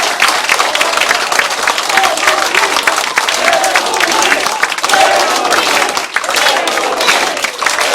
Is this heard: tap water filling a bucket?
no